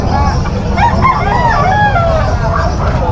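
A young gamecock stag crows at a busy Malabon chicken market, its drawn-out call rising over loud clucking from other birds and a constant crowd din with nearby voices.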